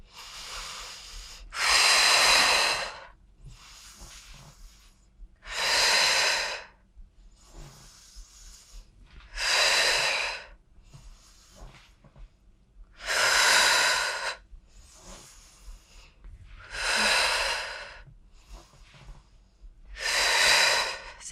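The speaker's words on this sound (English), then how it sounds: "So using your inhale as your prep and exhaling to lift." Strong breaths during a core strength workout, several loud airy inhales and exhales rising and falling in a slow, regular cycle, close to the microphone with quieter pauses between.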